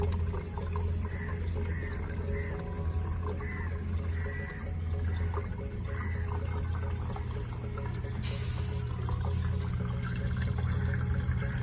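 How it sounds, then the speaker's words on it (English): Steady trickling and pouring water circulating through a home hydroponic vegetable system over a low constant hum, with faint drips scattered through; continuous and moderately quiet, no voices. "You hear it trickling away"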